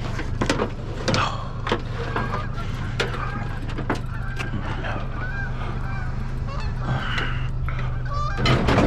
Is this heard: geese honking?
yes